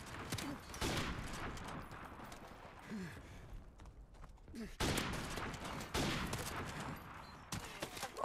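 Gunfire from the video game Modern Warfare Remastered, with sharp shots in separate bursts spread across the stretch and a dense fusillade near the end.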